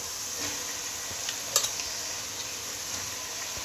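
Masala with tomato paste for Hyderabadi chicken dum biryani sizzles softly in a pan while a spoon stirs and scrapes through it, a steady frying hiss broken by a few light clinks near the middle.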